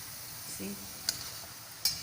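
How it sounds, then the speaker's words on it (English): Badusha pastries fry in hot oil, giving a soft, steady sizzle up close, broken by a few light metallic clinks of a utensil. "Let's just fry them for some more time."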